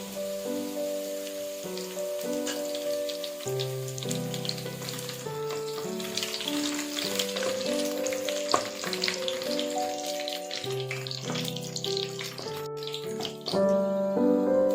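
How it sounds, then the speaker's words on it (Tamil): Dried red chilies fry in hot oil for a cumin chicken dish, a steady, soft sizzle running continuously beneath background music. "எண்ணெய் காஞ்சதும் வரமிளகா ஆட் பண்ணிக்கணும்"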